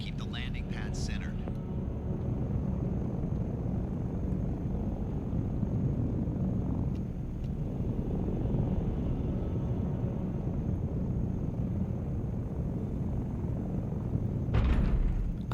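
Ornithopter from a video game flying over Arrakis and coming in to land, a steady droning engine and wing hum throughout, with brief mechanical clicks near the start and end.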